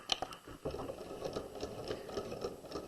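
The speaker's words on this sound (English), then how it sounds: "we're going to back stitch to the edge, then we're going to stitch at 5/8 of an inch." A sewing machine stitches a plain seam on pajama pants at the crotch, a soft, quick rhythmic needle chatter that starts after a brief pause and runs steadily at close range.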